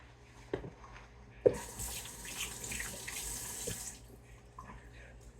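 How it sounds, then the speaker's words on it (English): A kitchen tap gushes into the sink as hands are rinsed, a bright, steady splash lasting a couple of seconds, framed by soft knocks and clinks before and after. "Rinse, rinse, rinse my hands."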